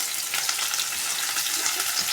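Chopped ginger and garlic going into a pan with onion for chilli mushroom, giving a steady close, bright sizzle of frying with faint stirring, no voices.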